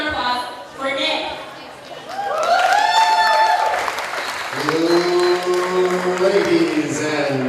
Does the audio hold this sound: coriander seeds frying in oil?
no